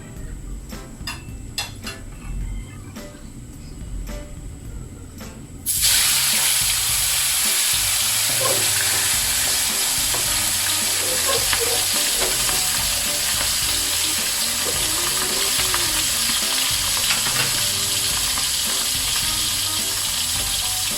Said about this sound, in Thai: เอาปลาลงไปทอดเลยค่ะ